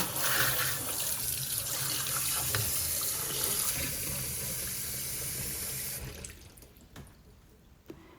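Water runs steadily from a kitchen faucet into a sink with a bright hiss, then cuts off, leaving faint drips and small handling noises.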